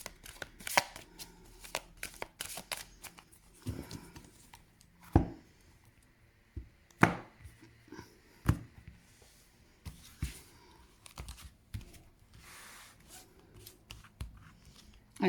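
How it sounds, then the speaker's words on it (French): A tarot deck is cut and cards are drawn, giving soft papery slides, riffles and sharp card snaps scattered irregularly, close and fairly quiet, with gaps between them. "On va couper le jeu et on va aller en chercher 4."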